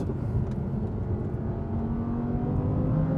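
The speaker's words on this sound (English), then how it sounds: "The way this thing revs." Mid-engined Honda NSX sports car with a manual gearbox and traction control off, engine revving hard as it drives, a loud steady whine that climbs in pitch, heard close with no talking.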